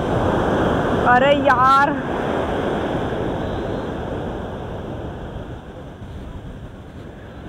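Rough sea surf pounds an untouched beach in Kerala, a continuous loud wash of breaking waves with wind buffeting the microphone and a brief whistle-like tone early on, while people speak over it.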